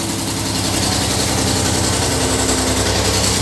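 A three-cylinder petrol engine runs on a test bed under load, giving off a loud, steady, pulsing drone with an even mechanical rhythm from start to end.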